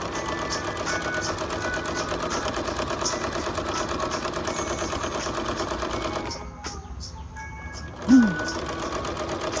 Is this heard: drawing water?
no